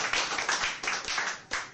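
Congregation clapping at a church service, a steady run of hand claps with rhythmic surges, fairly near, with no talk over it.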